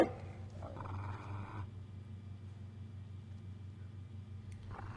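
Inside Dragon Age Origins, a dog stares at a door and growls low and steadily, a rumbling snarl lasting several seconds over a quiet game ambience, with brief higher whines at the start and end.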